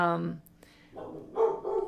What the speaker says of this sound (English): The dogs are barking because it's time for lunch, I guess.